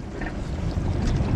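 Strong wind buffeting a fishing boat anchored at sea on a windy day, a steady loud roar of gusts and wind noise across the microphone with no talking.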